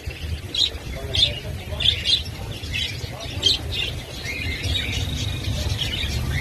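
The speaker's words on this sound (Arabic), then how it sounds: "شوفوهن طيور نشطه ومرتبه وحلوه" Many small birds offered for sale at an outdoor bird market in Diyala, Iraq, including spangle budgerigars and other pet birds, chirp and tweet in scattered bursts over a steady low crowd rumble.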